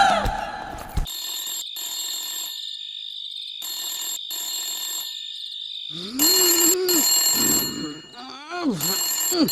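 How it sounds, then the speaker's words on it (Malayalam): A telephone rings in repeated bursts inside a police station, its bright electronic trill pausing between rings, followed by a voice speaking over louder background clamor. "ഫോൺ അടിക്കണു."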